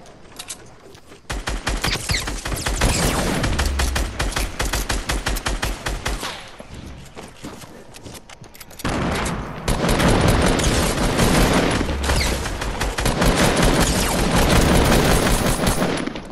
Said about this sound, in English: I'm getting sniped.